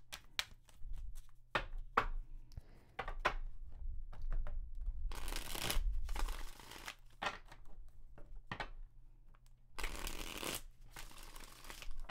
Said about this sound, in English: You sat here and watched me shuffle them.